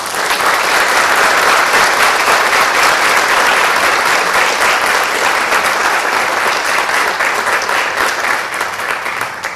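An audience at the launch of an energy-efficiency awareness campaign bursts into sustained, dense applause that holds loud and steady for several seconds before easing slightly at the end.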